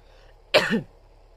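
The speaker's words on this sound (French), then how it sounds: "Alors maintenant j'ai une quinte de toux." One short, harsh cough from close by during a coughing fit, quick and throaty, with quiet before and after.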